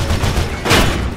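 Two heavy shotgun blasts in the first-person action game Mirror's Edge, a booming burst near the start and a louder one partway through, set against constant dense game noise with no talking.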